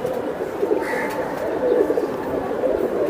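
A red khaki pigeon coos close by, giving low, steady calls for about three seconds over a soft background murmur.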